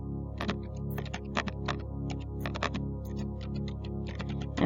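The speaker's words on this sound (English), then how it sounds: "I'm typing my application name." Someone types on a computer keyboard in short, irregular bursts of crisp key clicks over a low, steady electrical hum.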